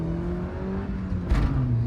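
An engine drones steadily and its pitch rises as a sixteen-year-old car accelerates in first gear, heard from inside the car with a brief rush of noise partway through and no talking.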